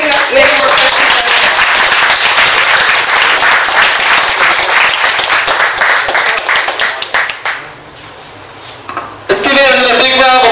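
A crowd at a business talk in San Jose breaks into loud, sustained clapping that thins out toward the end, after which a voice speaks over the room.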